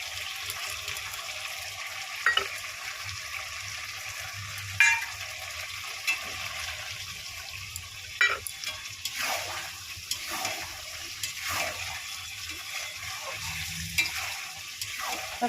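Spiced chicken hearts and potatoes fry and sizzle in a pan while a spoon stirs them, with soft scrapes and clinks recurring every few seconds over a steady, close crackle.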